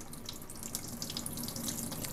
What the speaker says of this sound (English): I just flush the orchid and the pot like this